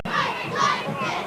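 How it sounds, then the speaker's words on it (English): High school cheerleaders at a football game shout a chant to rally the crowd, their voices rising in rhythmic bursts over a busy stadium crowd. "Somerville cheerleaders trying to rally up the crowd."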